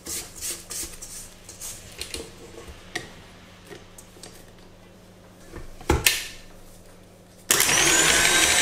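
An electric mixer whisks cake batter for a passion fruit cake. Quiet kitchen ticks and clatter give way to a loud, steady motor whir that starts abruptly in the final second.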